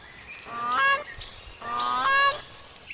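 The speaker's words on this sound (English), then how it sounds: "Gray-crowned cranes typically inhabit wetlands and moist grasslands rich in insects, seeds, and small animals." Grey crowned crane calling in two loud honking bouts, each a nasal, goose-like double note, with a short quiet gap between them.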